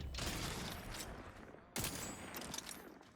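Rapid bursts of video game gunfire from a shooter, a sustained volley that cuts out briefly and resumes with a sharp loud crack, continuing dense and steady with no talking.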